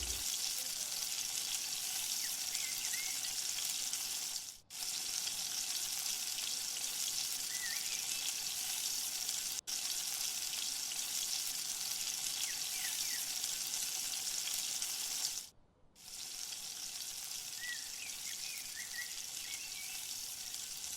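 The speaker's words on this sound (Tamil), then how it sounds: "இதை சின்ன சின்ன பீசஸாக வடைக்கு மாதிரி பிடிச்சி ஆயிலில் ஃப்ரை பண்ணி எடுத்துக்கொள்ளணும்." Small pieces of laddu dough deep frying in oil over medium heat, a constant dense hiss of bubbling oil with occasional high squeaks and a couple of brief gaps.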